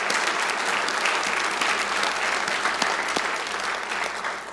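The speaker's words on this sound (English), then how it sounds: "So let's give him a round of applause." An audience gives a steady round of applause at a local government event, dense clapping sustained throughout and gradually easing toward the end.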